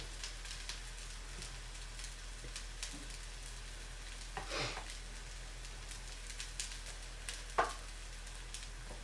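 Semolina harcha galettes cooking in a pan give a faint, steady low sizzle with a couple of brief scrapes or clatters of a utensil, no talking.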